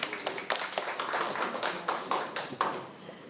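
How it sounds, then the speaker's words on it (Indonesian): An audience breaks into brief, scattered clapping at an Indonesian film talk show, with sharp uneven claps rising and fading over a few seconds, fairly close and moderately loud. "Tepuk tangan dong."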